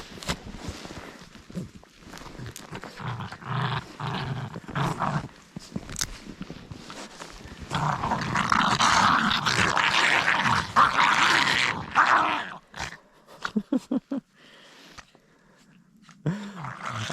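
Two dogs play and growl in deep snow on a property in Saaremaa, Estonia, with bursts of close snarling and rough play noises, short whimpers, and crunching movement, interrupted by quieter gaps.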